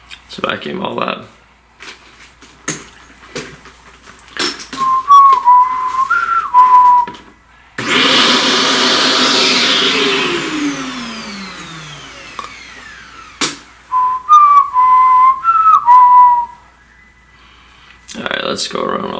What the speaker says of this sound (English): Let's vacuum all that.